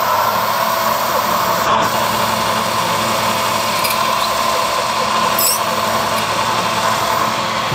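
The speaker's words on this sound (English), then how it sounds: "So we'll go straight in with a 4mm drill through there" Power drill boring a 4mm hole through metal for countersunk screws, a loud steady high whine running continuously for several seconds with no talk over it.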